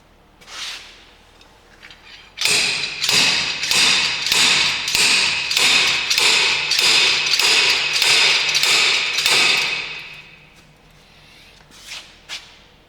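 Sharp metallic hammer blows ring out in a fast steady series of about a dozen strikes, close and loud, as a wheel bearing is hammered and pried out of a 1977 Oldsmobile Cutlass Supreme, with a couple of isolated knocks before and after.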